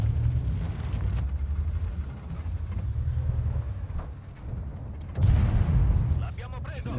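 Tank cannon fire from the World of Tanks video game, with a loud boom partway through standing out over continuous rumbling battle and engine noise.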